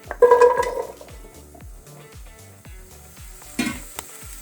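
Pumpkin pieces dropped into a hot pan for jam, giving a bright sizzle at the start, then clinks and scrapes of a utensil against the pan with rhythmic stirring, ending with another burst of sizzle.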